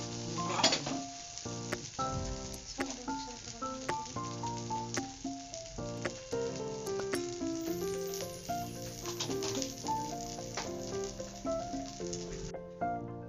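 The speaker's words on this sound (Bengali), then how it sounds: "ভালো করে এটাকে একদম শুকনো শুকনো করে কষিয়ে নিতে হবে" Potatoes with cumin sizzle and fry in a pan, with a soft continuous crackle under repeated scraping and stirring clinks of a utensil against the pan at an uneven rhythm, while music plays over it.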